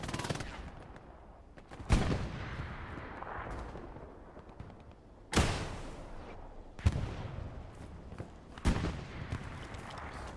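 Rockets from a rocket-artillery director in Hell Let Loose, fired toward Pierre's farm during a large competitive battle, land as several sharp, separated booms with rumbling tails over a continuous low battlefield din.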